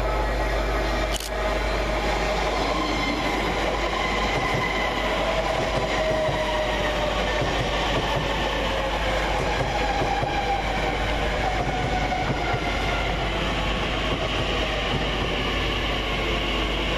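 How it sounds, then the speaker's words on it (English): A Class 345 electric train rolls into Twyford station on a TfL Rail service with a low steady rumble and hum, wheels faintly squealing as it slows along the platform. "Next into the platform is 345030, working the 1158 TfL rail service from Reading to London"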